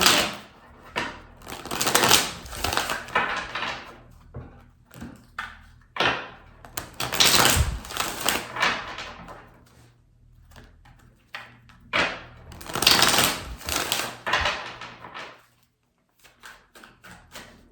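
Repeated papery riffling and soft slapping of shuffled tarot cards in several bursts, close and steady, with brief pauses between shuffles.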